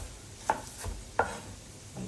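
Celery being chopped with a knife for a carrot, celery and onion base: two sharp knife strikes roughly 0.7 seconds apart with a softer third near the end, close and fairly quiet, no talk.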